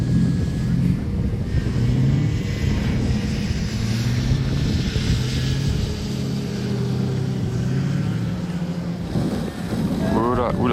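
A blue car drifting on a snowy course among a group of supercars that includes a Pagani, its engine a continuous low roar mixed with wind buffeting, with a brief higher whine near the end.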